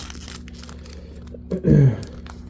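A brief, close crunching snip around the middle of an otherwise quiet stretch, as scissors slice through a stiff plastic Donruss card pack.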